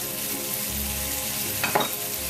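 Chicken sizzles steadily in a hot pan as white wine and lemon juice are poured in, giving a close, continuous frying hiss with a brief louder burst of sizzle near the end.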